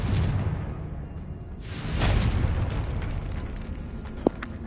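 A Confringo fire spell detonating in the Hogwarts Legacy video game, a loud close boom with a rushing burst that swells and then rumbles down, followed by a sharp small pop near the end.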